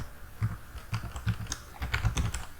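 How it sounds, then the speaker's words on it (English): Fingers typing on a computer keyboard: a quick, uneven run of soft key clicks and taps in short bursts, close and clear, with no speech. "So I will just type my credentials here"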